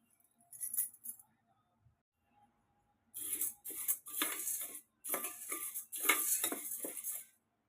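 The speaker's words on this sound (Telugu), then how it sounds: "కందిపప్పు లైట్గా వేయించుకోవాలండి." Toor dal is lightly roasted and stirred in a pan, heard as bursts of dry, rattling metal-on-metal scraping in several stretches of about a second each, separated by silences, close and clear.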